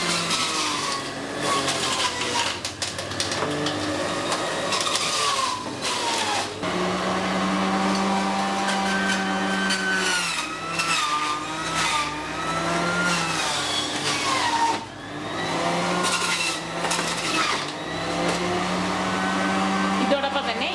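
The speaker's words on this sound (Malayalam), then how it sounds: "ഇനി ഇത് ഓൺ ചെയ്ത് ഈ ഓരോ പീസ് കുക്കുംബറും ഇതിലേക്ക് ഇട്ട് കൊടുക്കാം." An electric juicer grinds cucumber pieces, its motor whirring loudly and dipping and rising in pitch as each piece is fed in.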